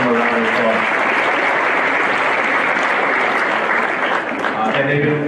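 A district arts festival audience gives a loud, steady round of applause for a medal-winning group, sustained and dense throughout with faint voices beneath.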